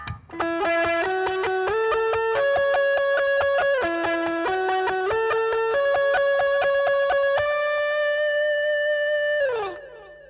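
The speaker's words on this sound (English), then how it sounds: "It's a heavy distortion with a hall reverb and a long delay." A heavily distorted electric guitar played through a BOSS ME-80 with hall reverb plays a sustained lead line with long delay trails, loud and alone, the notes shifting step by step before fading out.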